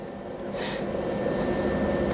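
Machine tool at about 1200 RPM cutting weld material off an axle adapter, a steady broadband grinding whir with a brief hissing burst early on, constant and fairly close throughout.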